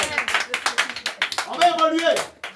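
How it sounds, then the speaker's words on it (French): A church congregation applauds with quick, rhythmic hand claps, close and fairly loud, while a voice carries over the clapping. "Acclamez pour vous-même."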